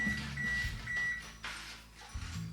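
An oven's electronic preheat signal: a thin steady tone sounding in short repeated bursts in a quiet kitchen, with low background rumble and a faint knock near the end.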